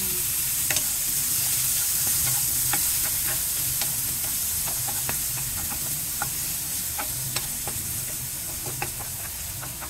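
Onions fry in hot cooking oil with a loud, constant hissing sizzle, scattered crackles and pops, and light scraping taps of a spoon stirring through the pan, all close up and with no talk.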